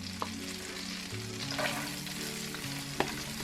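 Salmon pan-seared in butter and oil sizzles steadily in a pan, with a few sharp clinks and scrapes as it is stirred, close and continuous under a low background hum.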